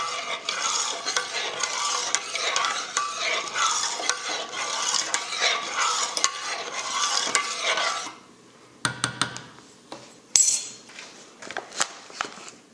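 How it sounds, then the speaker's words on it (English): Tomato puree being stirred into a simmering Portuguese chicken sauce in a pan, a continuous wet scraping and bubbling swirl for about eight seconds, then a few sharp utensil clinks and taps against the pan, quiet and close. "Give this a quick stir"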